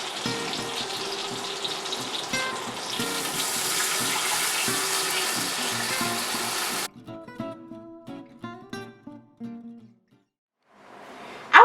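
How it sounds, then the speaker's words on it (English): Water gushing from a tap into a pot for a stovetop pot roast with onion, a steady splashing pour that stops, then clinks and scrapes of the pot, a short silence and a final burst of noise. "What we do now is add our 3 cups of water as well as our onion."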